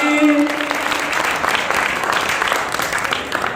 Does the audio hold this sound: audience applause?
yes